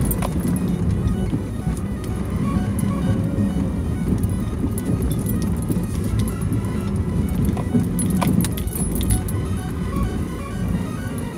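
Jeep crawling through snow in two-wheel drive, a steady low engine drone with continuous rumble and crunch throughout, close and fairly loud, with no clear speech over it.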